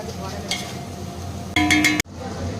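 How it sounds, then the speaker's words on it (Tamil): Onions sautéing to golden brown with masala for chicken biryani, a soft steady sizzle with stirring, then a brief louder clatter of a utensil against the pan before it cuts off abruptly. "இது வந்து நல்ல ஒரு கோல்டன் ப்ரௌன் கலரில் நல்லா வதங்கி வரணும் வதங்கட்டும்"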